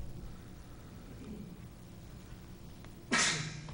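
A single sudden sneeze bursts out near the end, loud and close, over a steady low background hum.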